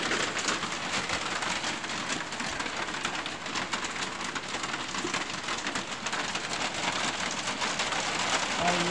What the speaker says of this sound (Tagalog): ito umulan ng yelo